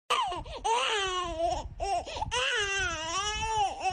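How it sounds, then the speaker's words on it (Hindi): A baby cries loudly in long, wavering wails with a short breath-catching pause in between. "तभी उसे किसी बच्चे की रोने की आवाज सुनाई देती है।"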